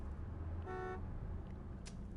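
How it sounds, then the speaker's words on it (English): City traffic drones steadily in a video game, broken by one short, clear car horn honk early on and a faint brief toot near the end. "all I could hear was the ceaseless drone of traffic."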